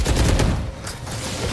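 Rapid gunfire bursts from a shooter video game, loud and dense through the first half and again near the end, with no talking over it.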